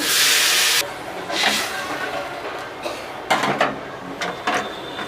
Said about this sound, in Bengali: এবারে অল্প পরিমাণে জল দেব।